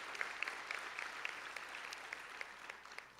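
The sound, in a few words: audience applause for graduates' families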